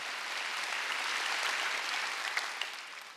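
A church congregation at a Wednesday worship service claps together in a sustained, even roar of hands that holds steady for a few seconds before easing off, with a couple of sharper claps near the end.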